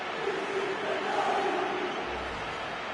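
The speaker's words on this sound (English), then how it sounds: "The crowd have gone crazy, and quite rightly so." A stadium crowd roars after a goal in the football video game FIFA 19, a dense sustained cheer at moderate distance with no clear voices on top.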